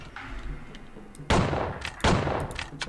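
Two loud gunshots from the video game Outlaws, fired by the player roughly a second apart, each a sharp broadband blast with a short decaying tail over low background game ambience.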